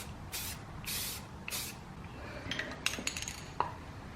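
Three bursts of spray paint hiss from a can while resin pieces are glazed, each about half a second long, followed by light clinks and taps of pieces being handled, close and fairly quiet.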